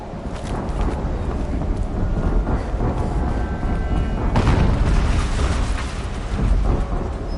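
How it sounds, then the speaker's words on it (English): A PS4 video game explosion comes through as a dense, continuous roar of booming rumble, with a sharper burst midway and another swell near the end. "An explosion."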